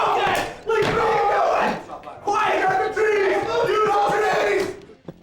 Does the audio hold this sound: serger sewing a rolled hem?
no